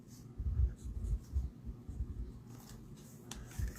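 Pencil sketching lightly across paper for a handmade stamped card, a soft, close scratchy scribble in short strokes with brief pauses, fairly quiet and with no talking.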